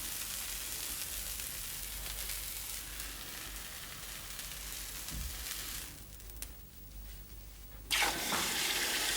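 A hot steel horseshoe hisses and sizzles steadily as a farrier plunges it into water while shoeing a horse, a loud continuous fizz that dips briefly before a sharper burst of bubbling steam near the end.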